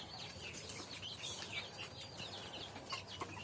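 Chickens squabbling inside a coop, a continuous busy mix of clucking and chattering from several birds with occasional wing flaps, faint and moderately distant.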